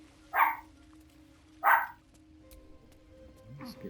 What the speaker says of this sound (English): you can no doubt hear my doggy in the background